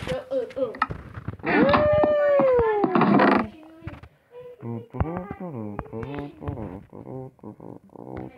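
A dog in a survival video game howls in a long drawn-out wail, followed by a run of short whimpers and yelps, loud and close.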